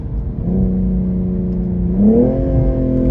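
A steady, loud BMW M240i inline six-cylinder engine hum that climbs in pitch partway through as it revs, a smooth drone close by.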